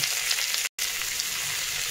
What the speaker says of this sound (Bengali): এবার এই শাকটা আর একটা লঙ্কা দিলাম